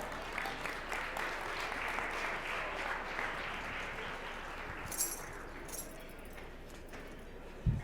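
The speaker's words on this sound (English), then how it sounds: "Give her a round of applause." Soft, steady applause from a keynote audience for a volunteer coming up, fairly distant and even, with a few faint clinks and thumps near the end.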